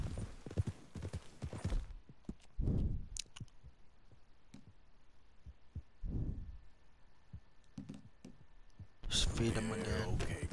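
Horse hooves in the Red Dead Redemption 2 video game clop in a slow, sparse rhythm, with soft game ambience between the steps and a louder burst of mixed game sound near the end.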